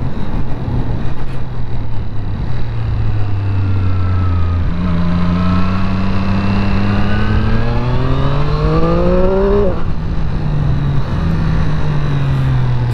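Triumph Street Triple RS three-cylinder motorcycle engine with quick shifter, revving up through the gears with a loud, smooth rising whine, quick seamless shifts and a brief drop in pitch between them.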